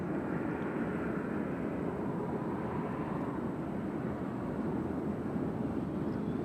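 Steady, distant roar of a British Airways Boeing 777 coming in to land on runway 2 right at Nashville International Airport, a continuous broad rumble without talk.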